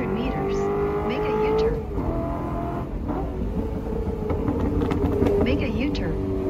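A modified car fitted with a Pandem wide body kit revs hard at a large Pattaya, Thailand car show, engine note rising and falling loudly through the whole stretch, with crowd noise and voices mixed in around it.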